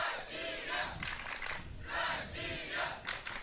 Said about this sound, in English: now you can hear some of the fans are cheering up their fellow teammates